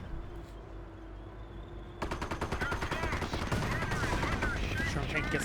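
MG42 machine gun fire in the WWII strategy game Company of Heroes: after a couple of seconds of quieter battlefield ambience, loud rapid bursts of automatic fire rattle on continuously to the end.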